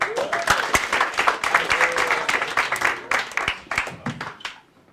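Audience applause in a comedy club, dense clapping and cheering that runs steadily for several seconds, then thins and fades at the end.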